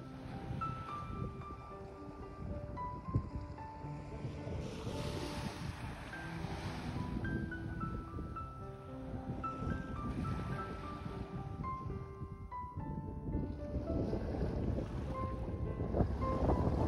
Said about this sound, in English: what can be more soothing than a peaceful walk on a beach?